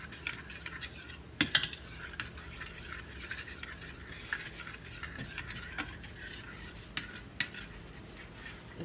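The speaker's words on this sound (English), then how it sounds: "Just keep stirring to your consistency." Red velvet cake batter being stirred by hand in a bowl, with a steady run of soft scraping and light utensil clicks against the bowl, close and continuous with no talking.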